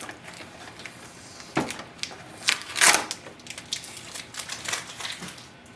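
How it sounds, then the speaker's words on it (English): Quiet ripping and crackling of adhesive tape being peeled off a Canon PIXMA TS3725 printer, a few short louder tears over a faint steady background. "There is one more tape at the back of the printer."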